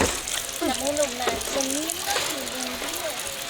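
Food sizzles steadily in a hot pan, a constant bright crackle, while a voice hums or murmurs over it.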